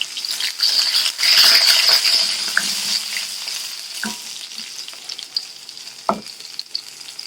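Sliced onions drop into hot oil after mustard seeds have spluttered, a strong close sizzle that softens into steady frying with a few sharp pops and stirring clinks, no voices.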